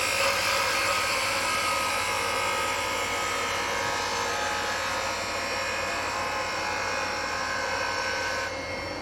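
A wood lathe spins steadily as a tool cuts a bead and bulb ornament, a loud, continuous whirring hiss with a faint scraping texture that runs unbroken close by.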